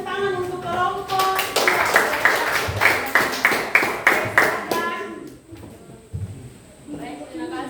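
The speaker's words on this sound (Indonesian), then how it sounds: "kita berikan tepuk tangan untuk kelompok" A group of classmates in a teacher-training class claps in a short, rhythmic burst for a presenting group, sharp hand claps close by, with talking before and after.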